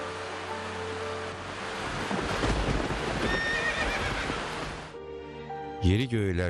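Horses neigh and whinny amid hoofbeats and rumbling, wind-like noise in a mountain setting, ending with a loud, close, wavering whinny after a short lull.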